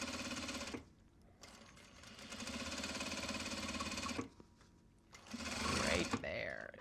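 A sewing machine stitching Japanese fabric project bags runs in two long bursts of steady rapid whirring, separated by short pauses, with brief talk in the gaps.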